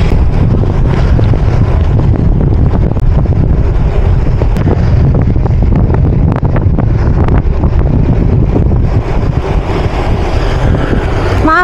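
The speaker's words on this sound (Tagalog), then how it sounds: "Lakas ang hangin. Headwind." Heavy headwind during a mountain bike ride buffets the microphone in a continuous loud roar, with low rumbling gusts and no speech.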